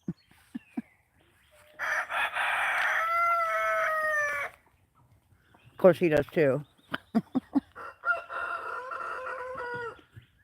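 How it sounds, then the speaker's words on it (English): A young rooster crows twice on a farm, the first a long, drawn-out call and the second shorter and broken-sounding, with clucks and people talking nearby between the crows. "Yeah, that's the young rooster."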